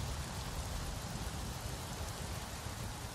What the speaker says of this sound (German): ich kann dir sagen, es regnet gerade